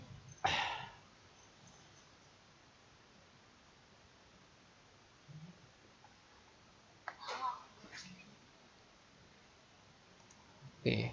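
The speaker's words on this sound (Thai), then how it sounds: "การคลิกเข้าไปที่ควิด ปุ๊บ" Computer mouse clicks selecting Quiz in Kahoot, a few sharp clicks near the start, around 7–8 seconds and at the very end, over quiet room noise.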